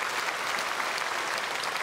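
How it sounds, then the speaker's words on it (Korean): A church congregation at a Sunday worship service claps loudly to welcome newcomers, producing a brief, dense burst of steady applause from a large crowd. "우리 크게 박수로 환영하겠습니다"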